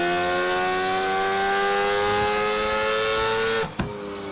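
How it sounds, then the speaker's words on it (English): A high-revving rotary car engine holds a steady, buzzing drone with layered harmonics, then abruptly drops off near the end with a brief clunk. "The rotary engine has a truly unmistakable sound."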